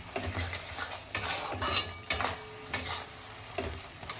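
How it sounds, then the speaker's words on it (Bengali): Brinjal being stirred and sautéed with spices in a pan, a spatula scraping and knocking against the metal in irregular strokes, with a soft sizzle underneath; close and moderately loud, no voices. "এইভাবে আবার কষাবো সময় নিয়ে"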